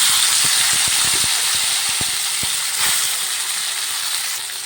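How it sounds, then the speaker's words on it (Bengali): Chow mein noodles frying in a little hot oil in a wok, a loud continuous hiss of sizzling with a scatter of quick spatters and crackles throughout. "আর কড়াইয়ের মধ্যে আমি দিয়ে দিয়েছি অল্প একটু তেল এরপর আমি এই চাউমিনটাকে দিয়ে দেব"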